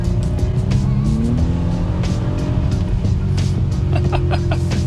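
A 2021 Audi SQ5's engine roars steadily and loudly, with tire squeal and rising revs over a continuous low rumble.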